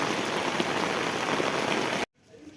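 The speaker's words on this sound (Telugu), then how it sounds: "పొలం మీద నీళ్ళన్నీ వచ్చేస్తున్నాయండి" Heavy rainwater rushes and hisses steadily across farm fields in a dense continuous wash that cuts off abruptly, leaving a quiet murmur.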